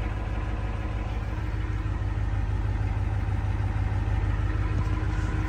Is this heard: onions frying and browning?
no